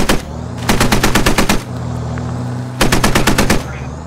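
Loud bursts of automatic gunfire in the military shooter game Squad, two rapid volleys of about a dozen shots each separated by a pause filled with a low engine rumble.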